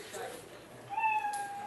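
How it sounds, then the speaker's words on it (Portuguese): A cartoon cat meow from a Scratch program loop plays once, a clear tonal electronic meow over faint room noise and background murmur. "Ele fala miau, espera 2 segundos e repete isso de novo para sempre."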